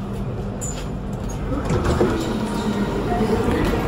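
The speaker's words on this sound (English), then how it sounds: "taking the train into the city" A train ride into the city, heard as a steady low rumble and rattle of carriages throughout, with a person talking over it.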